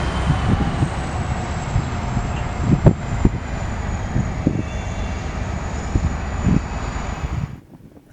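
A freight train yard movement pulled by a Jeep locomotive in a Galesburg, Illinois rail yard: a steady, fairly loud engine drone with intermittent clanks and thumps from the cars, continuous throughout before cutting off at the end.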